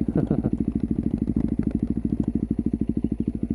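A 2008 Suzuki DR-Z400SM single-cylinder supermoto exhaust pops and thumps in a rapid, even beat, loud and very close, with an uneven blip of revving at the start.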